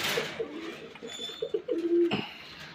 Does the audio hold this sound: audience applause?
no